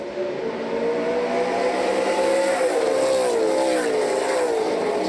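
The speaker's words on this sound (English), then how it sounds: "Just love hearing these NASCAR Pinty Series cars at song down this long Boulevard du Caramel straightaway into turn number six." NASCAR Pinty's Series race cars roar down the long Boulevard du Caramel straightaway toward turn six at GP3R in Quebec in 2021, a loud, continuous engine wail with shifting pitch as cars pass, no voices.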